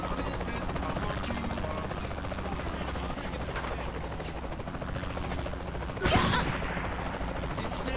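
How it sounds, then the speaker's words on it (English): Helicopter in the video game Saints Row: The Third, a steady rotor drone held at even loudness throughout, with game effects and a brief burst of louder noise near the end. "This helicopter's been like the one in my sights"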